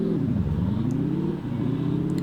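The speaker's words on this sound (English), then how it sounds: "I'm gonna throw it into neutral, rev it all the way up" A Roblox dually pickup engine revs up, its rough rumbling tone climbing and dipping before surging again as it accelerates, loud and steady throughout with no talking.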